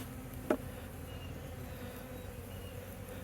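Bees around a log hive taken out in a removal drone in a faint, steady insect hum, with a single brief thump early on and quiet outdoor ambience throughout.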